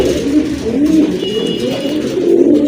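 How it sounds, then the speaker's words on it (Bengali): A Gola pigeon coos close by, loud, low rolling coos repeating in a steady pulsing rhythm, with no talk. "এটা দিয়েছে আসলে অ্যাকচুয়ালি আপনাদেরকে ডাক দেখানোর জন্য।"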